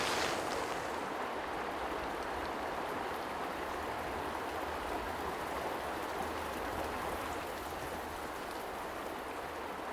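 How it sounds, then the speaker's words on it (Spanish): Steady, dense rain hisses without a break on a tent, with a low rushing of wind underneath, loud and close throughout. "Ahora que está lloviendo, hay viento"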